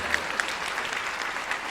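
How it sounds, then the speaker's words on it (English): A graduating audience at the NYSID 2024 commencement ceremony claps in a brief, steady burst of dense applause filling the hall at even loudness. "that deserves a applause"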